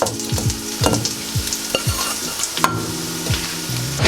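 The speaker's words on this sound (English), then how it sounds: "Add the mixed veg in there." Mixed vegetables stirred into rice frying in a pan: repeated scraping and tossing strokes over a steady sizzle, close and fairly loud, with a sharp clank partway through.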